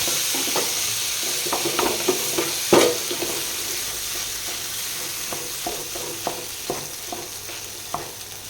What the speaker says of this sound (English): Now to this I am going to add the colocasia and mash it, mix it.